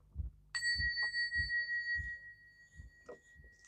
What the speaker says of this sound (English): We're gonna ring this bell